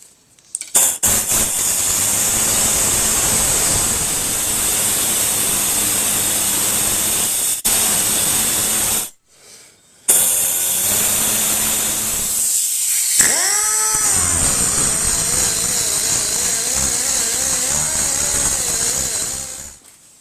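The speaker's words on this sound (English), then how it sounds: "And then I'll take a little die grinder and finish it off, and I'll grind the inside of this." A die grinder grinds the inside of a steel chest freezer hinge, a loud, steady, hissing whine that runs almost continuously, cutting out briefly once before resuming and shifting pitch as the load changes.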